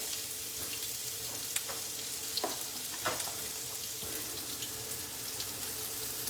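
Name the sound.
onions frying in a skillet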